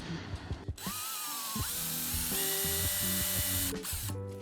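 A budget Temu cordless drill spins up and runs steadily into wood, its whine shifting in pitch, with brief pauses and a final stop.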